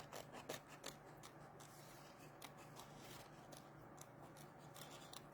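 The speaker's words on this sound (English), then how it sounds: "So I'm just gonna to cut around here." Scissors cut around patterned cardstock for a folded greeting card, snipping close and quietly. A series of short crisp cuts comes first and the snips thin out over a soft background.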